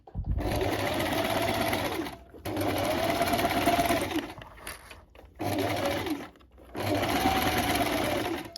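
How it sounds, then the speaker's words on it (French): A sewing machine stitches a seam 1 cm from the fabric edge, running in four loud, steady bursts of a few seconds each with short pauses between them. "Donc vous allez coudre à 1 cm du bord."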